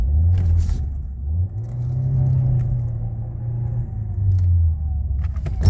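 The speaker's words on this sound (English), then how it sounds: "This is yet another pump failure on one of these. It's in drive. You hear that? Starting to slip." A Ford vehicle's 6F35 six-speed automatic transmission, slipping in drive from a failed pump, gives a low droning engine rumble that rises and falls in waves with the revs, steady and close, with no talk.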